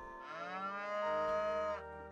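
A single long cow moo from the video game Harvest Moon: One World, drawn out and tonal, rising then holding before cutting off, clear and close with nothing else around it.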